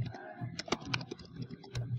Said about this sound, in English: press Y on the keyboard